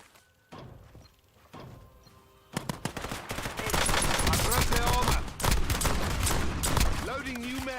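Automatic gunfire erupts in a shooter video game, sparse shots giving way to a dense, sustained barrage of loud rapid bursts, with a voice heard under the firing.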